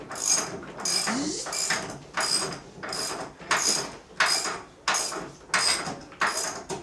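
A repeated ratcheting, clattering mechanical sound, about nine rhythmic pulses, like a drawer sliding on clicking runners, close and fairly quiet.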